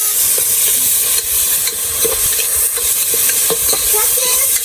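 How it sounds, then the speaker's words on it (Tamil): White onion, ginger and tomato sauté in a hot pan for a meat curry, a steady close sizzle broken by repeated scraping stirs of a spoon against the pan. "அடுத்தது தக்காளி நல்லா வதக்கணும்."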